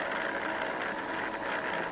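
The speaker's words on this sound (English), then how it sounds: "we got the 5 lights and max out the revs and off we go" Engines of F1 video game cars at the Belgium race start, a dense, steady high-pitched roar of revving held at maximum, loud and continuous with no talk.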